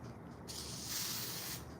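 A short burst of aerosol hair spray hisses steadily for about a second, close to the microphone, with a quiet pause before it starts.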